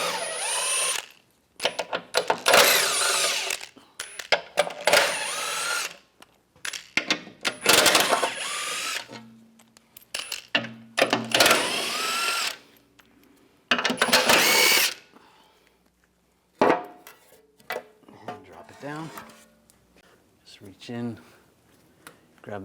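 Power tool bursts, likely a ratchet or drill driving a 16mm socket, loosen bolts on a 2009-2013 BMW 328i xDrive 3.0L L6 engine during water pump replacement, coming in repeated short whirring runs separated by pauses and handling noise.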